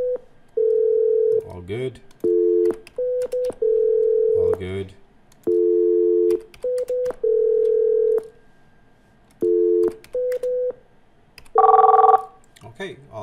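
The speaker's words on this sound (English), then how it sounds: "So just to make sure, I can dial each other." Cisco IP phones produce a run of steady dial-tone bursts and short DTMF keypad tones, clear and close, separated by brief gaps, with a ringback-like tone near the end and someone speaking briefly.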